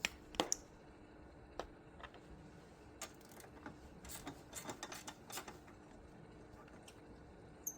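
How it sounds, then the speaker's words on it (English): Broken headlight clamps being worked loose on a Hyundai i30, giving faint scattered plastic clicks and ratchety snaps in a quiet workspace. "I'm gonna remove these clamps, the broken ones."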